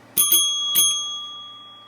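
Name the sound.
bell ringing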